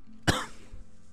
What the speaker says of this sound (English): If I can ever stop coughing.